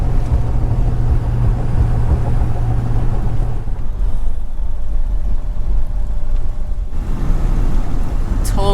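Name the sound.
car driving on twisty hill road in Mexico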